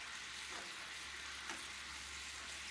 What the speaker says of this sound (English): You're gonna keep stirring this and let it cook for about 7 or 8 minutes until your apples are very tender.